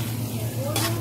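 Keema cooked with potatoes, spices, egg and tomato crackles in a pan with a brief stirring scrape, a short close-up burst of sizzle.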